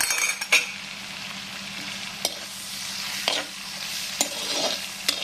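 Green chillies and a small onion fry in oil in a pan with salted fish and brinjal curry preparation, a steady broad sizzle broken by sharp scraping clinks of a spoon stirring, close and alone with no voices.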